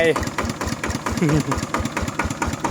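Kubota RT 90 plus farm tractor engine idling at low revs, a steady close, pulsing mid-pitched rumble with regular knocking beats, a faint voice heard briefly over it.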